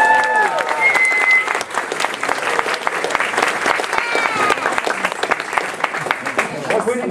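A convention crowd at a closing ceremony applauds loudly and continuously for several seconds, with sharp individual claps over a full wash of hands, and a few voices faintly mixed in.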